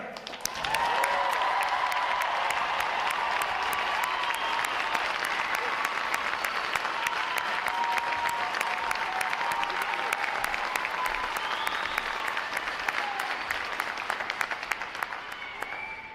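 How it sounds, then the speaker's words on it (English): Loud, sustained applause from a large crowd at a U.S. Navy boot camp graduation, steady clapping filling the space for the whole stretch with a few faint cheers mixed in. "Put your hands together for your American sailors."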